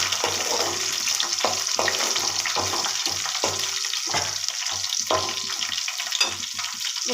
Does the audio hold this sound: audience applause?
no